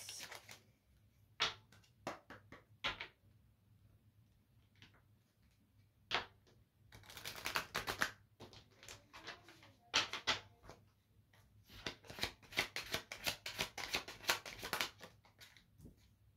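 A deck of tarot cards being shuffled up close, quiet at first with scattered single snaps, then bursts of dense riffling flutters and slaps in rapid clusters, no talking over it.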